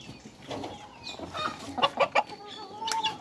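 Chickens cluck inside a small farm shed, with a quick burst of several close, fairly loud clucks in the middle and softer fowl noises around them. No one speaks.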